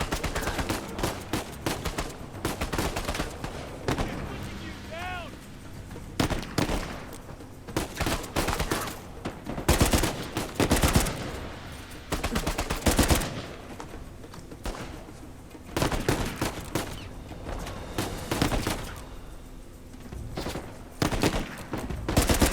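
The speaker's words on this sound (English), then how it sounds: "I've got a new weapon, the FAL, which has the machine gun capability as well as the sniper scope." FAL rifle firing in the video game Uncharted 4: A Thief's End, with bursts of rapid automatic gunfire and single sharp shots throughout, loud and close, mixed with game action sounds.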